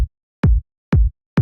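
Layered kick drum sample with low, mid and top layers played together, three punchy hits at an even pace, each a sharp click over a deep booming body, alone with silence between.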